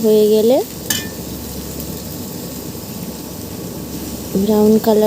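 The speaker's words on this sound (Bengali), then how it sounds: "তাতে পেঁয়াজ বাটা দিয়ে দেব, দিয়ে নাড়বো" Onion paste stirred in a frying pan for an aloo-begun hilsa fish curry, a steady close sizzle with scraping stirs that runs under talk at the start and end.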